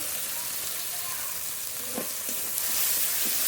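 Cumin, dried chilli, ginger and ground spices fry in a pan with a dense, continuous sizzle and a few faint soft knocks underneath, no speech.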